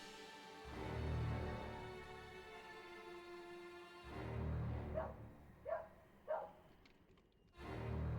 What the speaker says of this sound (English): The dog did not sound like it was barking right there.